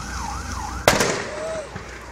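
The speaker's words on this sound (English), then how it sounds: "The explosion on this 1986 Concorde literally shook the marina." A gasoline-powered 1986 Concorde boat explodes at a marina, caught on a cell phone: one sudden, loud, close blast with crackling debris, following a wailing siren, and the siren continues faintly afterward.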